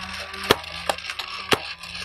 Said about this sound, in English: Let's see how this semi-auto blaster performs. Let's do our first two downrange.